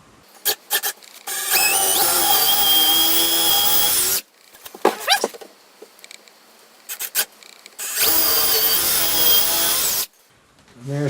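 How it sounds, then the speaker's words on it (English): A power drill whines loudly in two long sustained runs, drilling into a wall, with clattering handling noises and a short pause between bursts. "we're going to drill into these 2 inches"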